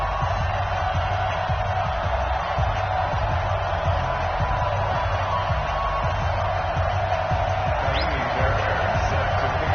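Stadium crowd noise at an NFL game between the New York Jets and Carolina Panthers in an EA Sports video game, a steady continuous roar of a distant crowd with no clear speech.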